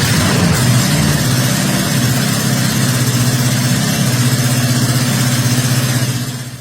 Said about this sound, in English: That sound of the Sorcerer starting was one of the most beautiful mechanical sounds I've ever heard in my life.